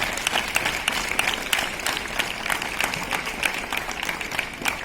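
Steady applause from a school audience at a farewell celebration, clapping for 10th-grade students, a dense, even patter of many hands sustained throughout at moderate distance.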